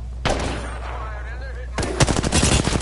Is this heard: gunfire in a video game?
yes